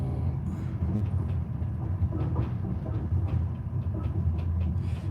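A passenger train runs along its rails, producing a steady low rumble with faint rhythmic clicks from the wheels, heard from inside the carriage at a constant level, with no talking.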